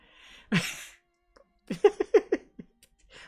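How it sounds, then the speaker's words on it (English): A single sharp cough rings out near the start, followed after a pause by a short run of clipped, vocal bursts, then quiet. "What the heck was that cough?"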